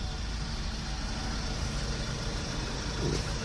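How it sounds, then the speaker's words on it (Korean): A steady, low engine idles continuously at close range, a constant rumble with no talking over it, from a 2019 Kia Bongo 3 one-ton four-wheel-drive manual truck with a Euro 6 engine. "엔진 소음,"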